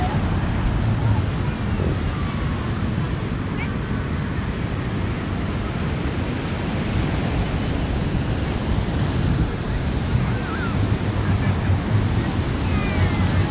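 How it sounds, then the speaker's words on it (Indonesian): Continuous roar of ocean surf rolling onto the shore at Ketawang Beach, Purworejo, Indonesia, with gusty wind rumbling against the microphone. "selain bisa menikmati debur ombak Pantai Ketawang"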